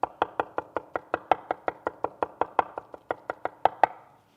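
A knife mincing pulled pork on a cutting board, about twenty sharp, evenly spaced chops in a quick steady rhythm, close and fairly quiet, with no talking.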